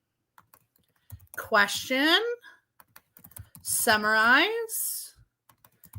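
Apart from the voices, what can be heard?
typing on a computer keyboard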